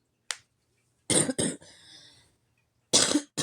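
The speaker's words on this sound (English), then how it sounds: "Excuse my cough, y'all." Several short, sharp coughs from a person with a lingering cold, close and fairly loud, in two pairs with a raspy throaty exhale between them.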